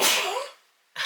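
A single sharp sneeze bursts out close to the microphone during a punch needle crafting session, fading into breath before a brief rustling noise follows.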